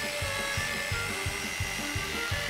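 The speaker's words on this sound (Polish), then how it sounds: "Zobaczmy, jak sobie poradzisz z wiertłem. O tak, wierć dziurę." A power drill bores into hard wood with a steady whining drone, chugging in regular pulses about every third of a second, loud and close with no voices.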